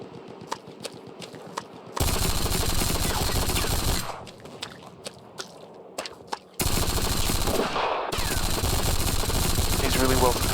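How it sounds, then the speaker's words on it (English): Rapid machine-gun fire from a Godot shooter game, loud sustained automatic bursts alternating with quieter stretches of single shots and clicks, with a voice speaking briefly over the action. "Check out the machine gunner."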